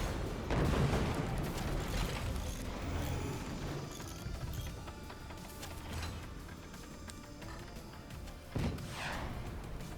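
Cannons fire in a video game as a series of heavy booms and thuds, some clustered and some spaced out, at a moderate level against a rumbling background.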